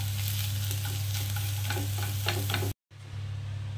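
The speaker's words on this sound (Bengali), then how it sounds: "আমি এইভাবে পুরটাকে নাড়াচাড়া করে একটু ভাজা ভাজা করে নিলাম।" Duck egg devil filling is stirred and fried in a pan, giving a steady close sizzle with scraping stir strokes, then a brief cut to silence before the frying resumes.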